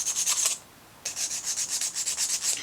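Fingernails being filed with a nail file, quick rhythmic rasping strokes close to the microphone in two bursts separated by a short pause, each stroke a dry scratchy swish.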